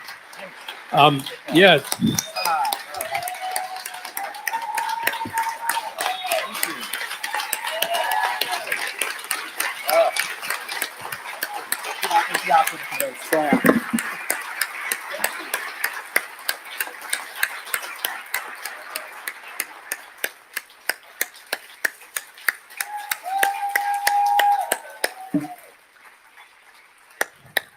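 Audience at a book event for Chasten claps, a dense patter of hands that thins into scattered individual claps toward the end, while a voice speaks over it.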